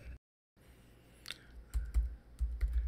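Computer keyboard typed on in a few sparse, soft key clicks after a brief silence, close by.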